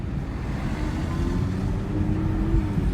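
A low, muffled engine drone from an Audi TT RS in comfort mode with the exhaust valves closed, heard steadily from inside the car as the revs climb a little, with no talking.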